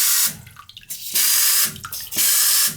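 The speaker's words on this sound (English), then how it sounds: "It's spraying right up, hitting the top." A faulty toilet fill valve sprays water straight up against the tank lid, heard as loud hissing bursts of spray in three surges separated by brief quieter gaps, close up with no talk.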